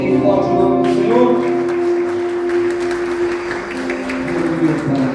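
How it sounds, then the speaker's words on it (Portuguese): A church congregation claps under sustained musical tones, a loose broadband patter of hands mixed with a held, droning chord that runs throughout without a clear break. "Você pode aplaudir bem forte o nome do Senhor?"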